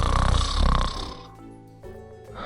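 A voice imitates a bear snoring, giving a long, rough, rumbling snore that trails off into a softer breathy tail, close and loud.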